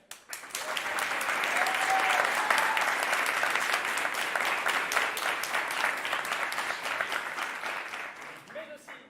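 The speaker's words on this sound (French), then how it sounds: "je vous demande d'applaudir bien fort encore une fois Diane" A theater audience applauds at the end of a play, with dense, sustained clapping that swells and then gradually thins, and a voice briefly cuts in near the end.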